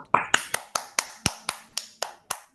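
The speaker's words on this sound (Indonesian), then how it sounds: "tepuk tangan guys." Claps in an Indonesian online class, about nine sharp, evenly spaced hits close to the mic, like one or two people clapping, with faint voices behind.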